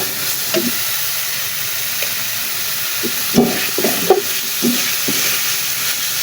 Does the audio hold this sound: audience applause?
no